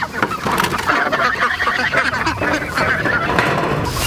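Meat chickens crowded in a temporary chicken tractor, a dense chorus of clucking and squawking birds close by, continuous and busy throughout with no break or talk.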